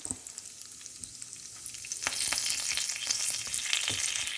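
Mustard seeds, cumin, fenugreek, curry leaves and lentils frying in hot oil for a Telugu ridge gourd chutney, a dry crackle that swells into a louder, busier sizzle partway through, with scattered pops.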